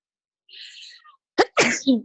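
A person sneezes once: a faint hissing inhale builds, then a sharp explosive burst follows with a short voiced trailing exhale, close and clear in a quiet room.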